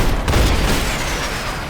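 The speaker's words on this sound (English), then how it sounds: "roket launcher" A rocket launcher blast in the Max Payne 3 shooter, a loud close boom at the start that rolls into a rumbling explosion decaying over a second or two, with a thin whine trailing behind.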